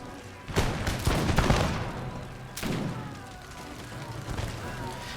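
Musket volley fire from a video game battle set in the American Revolution, with bursts of gunfire crackling in a cluster early on, a second sharp volley a moment later, then scattered pops over a low battle rumble.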